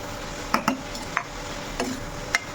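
Spoon clinking and scraping in a pan while salted red amaranth greens are stirred, a few sharp metallic taps and scrapes spaced irregularly over a soft background.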